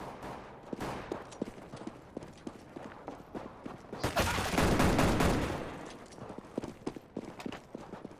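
Gunfire in Counter-Strike: Global Offensive played against bots, with scattered rapid shots and bursts through the clip and a dense louder stretch of firing in the middle.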